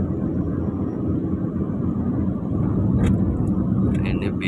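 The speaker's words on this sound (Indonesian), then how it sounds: "Ini bis pariwisata ini." A tourist bus rolls past on the Cipularang toll road toward Bandung, a heavy, steady rumble of engine and tyres filling the whole stretch, with a few brief higher clicks near the end.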